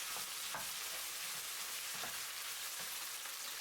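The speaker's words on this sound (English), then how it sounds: "Then briefly stir and add the onion." Pork and onion stir-frying in a pan, a soft continuous sizzle with faint periodic stirring scrapes, quiet and without voices.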